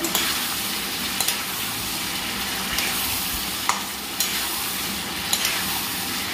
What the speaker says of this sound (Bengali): ম্যারিনেট করা মাটনগুলিকে আমি কড়াইয়ের মধ্যেই রসিয়ে কষিয়ে নেওয়ার চেষ্টা করছি।